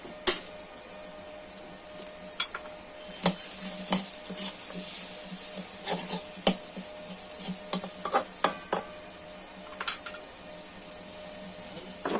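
Potatoes and onions fry together in a pan over a wood fire, with a steady close sizzle broken by sharp scrapes and clinks of a spatula stirring against the metal at irregular intervals throughout.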